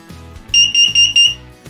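A household smoke alarm under test gives four sharp, loud high-pitched beeps in quick succession, each with a short gap between, heard alone.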